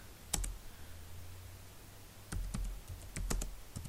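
Keys clack on a computer keyboard as VLAN settings are entered, with scattered taps followed by faster bursts of typing, close and clear, with no voices.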